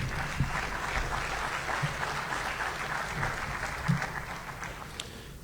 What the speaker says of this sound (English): Hey, another big round of applause for TW.